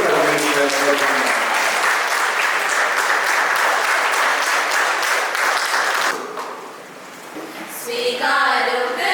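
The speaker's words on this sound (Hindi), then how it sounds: "आइए हम ताली मारते हुए परमेश्वर को धन्यवाद।" Sustained applause from a congregation at a Catholic church wedding ceremony, dense and steady clapping filling the room for about six seconds before it fades and singing voices rise toward the end.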